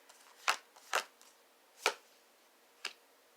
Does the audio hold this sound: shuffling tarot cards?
yes